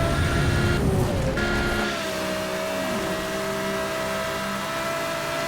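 Engine roar of a car accelerating in Need for Speed: Hot Pursuit (2010), a loud, continuous game engine note with shifting pitch during a race duel, no talk.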